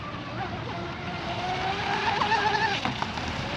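A J&R Marine H26 RC hydroplane boat engine runs with its throttle feathered, a steady buzzing whine that wavers and rises slightly in pitch, loud and continuous across the water.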